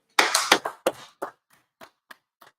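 Group of people clapping, a burst of loud, sharp claps that thins quickly into a few scattered, fainter claps, with no talking.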